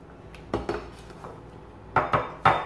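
A utensil stirs warm milk mixture into egg yolks in a bowl, giving a few sharp clinks and scrapes against the bowl, close and fairly loud, with no talking.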